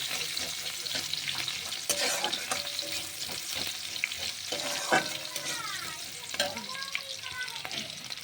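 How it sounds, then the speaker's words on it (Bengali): Onions fry in a pan while being stirred, a busy close sizzle punctuated by repeated scraping and knocking of the spatula against the pan. "একটু নাড়াচাড়া করে নিচ্ছি দেখো বন্ধুরা"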